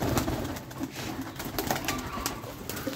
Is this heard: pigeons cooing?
yes